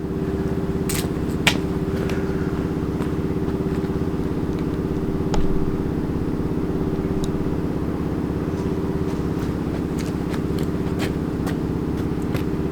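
A 1985 Yamaha Tri-Zinger coin-operated kids ride runs with a steady, close motor drone and a constant low hum, broken by occasional light clicks and clatters.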